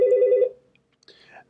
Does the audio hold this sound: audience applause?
no